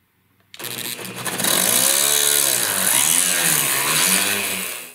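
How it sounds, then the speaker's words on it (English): A high-pitched Dremel rotary tool whirs up abruptly and grinds steadily, its pitch dipping and recovering as it drills out a metal screw in a VHS tape cassette, loud and close. "just drill this out with my Dremel"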